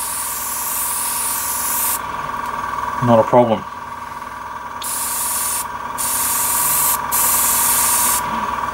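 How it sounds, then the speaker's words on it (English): Steady hiss from a Tamiya HG SuperFine airbrush spraying paint runs through the clip in bursts, with a compressor hum beneath and a brief spoken remark in the middle. "Let's just try and do a bit of general spraying and circular motion here,"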